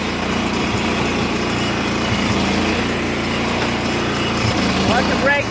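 A Cub Cadet HDS lawn tractor engine runs loud and steady close by, a continuous droning roar with a brief rising whine near the end.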